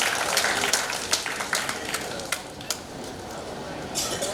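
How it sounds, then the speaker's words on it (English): Applause from an audience at a medical college event, a dense wash of clapping with some sharper individual claps, fairly close and steady, thinning toward the end. "I request to please give a big hand of applause."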